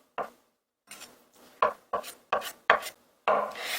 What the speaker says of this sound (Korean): 나머지 것도 썰어줍니다.